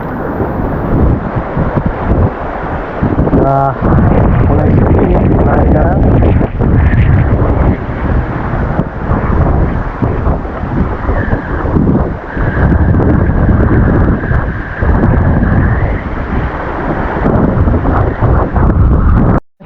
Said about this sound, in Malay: Ya udah mulai berangin teman-teman.